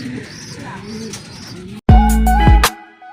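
Racing pigeons coo close by during a training flight in Plaridel, Quezon, ahead of a fun race. Someone talks quietly at first, then sudden loud cooing bursts in.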